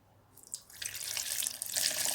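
Water pours steadily into a blender jar holding ice, sugar and kiwi for juice, a close, soft splashing stream that grows fuller over about two seconds.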